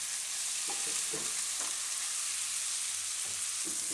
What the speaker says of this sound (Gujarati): તો થોડીક વાર આને આપણે પકાવી લઈએ, વચ્ચે વચ્ચે હલાવતા રહીએ.